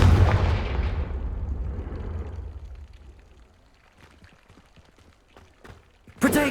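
Confringo fire spell from Hogwarts Legacy detonating in a loud booming blast that rumbles and fades over a few seconds, followed by scattered faint crackles and a sharp new burst at the very end.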